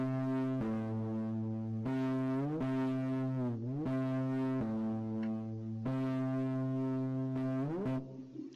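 A keyboard bass patch run through chorus and distortion effects plays a series of sustained buzzing notes, each held about a second with pitch bends between them, loud and alone.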